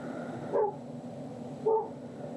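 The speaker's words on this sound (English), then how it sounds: "and now the neighbor's dog's outside." A neighbor's dog barks outdoors during a floodlight install, two short muffled barks about a second apart, heard at a distance over a steady background hiss.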